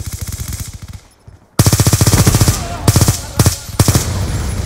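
Machine gun fire from an MSMC in Call of Duty Black Ops 2 on the Yemen map: loud, rapid automatic bursts, one short burst, a brief pause, then a long sustained stream with a few trailing shots.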